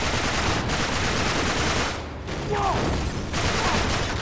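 Sustained gunfire in the video game Uncharted 3: Drake's Deception, with dense, continuous shooting and battle noise that briefly dips near the middle before resuming loudly.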